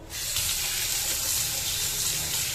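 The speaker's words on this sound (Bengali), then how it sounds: "পরিষ্কার করে জল দিয়ে ধুয়ে নিই" Steady tap water runs and splashes in a sink while fish (prawns and bhola fish) are rinsed, a continuous close hiss of flowing water with no voices.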